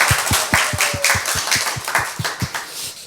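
A church congregation claps together at a Sunday worship service, a steady run of sharp, evenly spaced claps with a roomy, reverberant crowd wash behind them.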